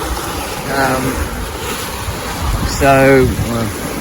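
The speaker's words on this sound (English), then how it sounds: "The waves are moving the boat around about 40 degrees." Broad wind and water noise from ocean waves rocking a sailboat about 40 degrees, with a voice speaking briefly over it and a creak-like tone partway through.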